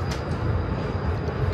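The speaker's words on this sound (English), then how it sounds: "You need to stop the train." A moving train in The Walking Dead video game gives a steady low rumble and rattle of rolling rail cars, continuous and fairly loud, with no voices over it.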